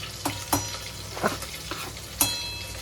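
A cluster bean and potato stir-fry with groundnut oil and plenty of coriander is mixed in a pan. A soft continuous sizzle runs under a few sharp utensil knocks and scrapes against the pan, close by, with no talking.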